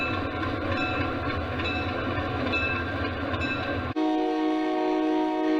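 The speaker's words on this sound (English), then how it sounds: "This train departing Mechanicville, powered by a U33C, F7B, and Boston and Maine GP18." A model train led by a U33C, F7B and Boston and Maine GP18 departs Mechanicville on a layout, a continuous close engine drone with a dense hum that shifts abruptly to a brighter whining tone partway through.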